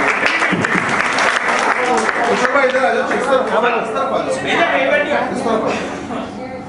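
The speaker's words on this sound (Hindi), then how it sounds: "तालियां भाई, तालियां, तालियां" Audience applause at a mushaira poetry gathering, a dense burst of clapping mixed with voices and chatter, fading slightly toward the end.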